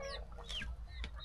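Chickens on a rural farm cluck close by in a short burst of a few quick calls over a low background rumble.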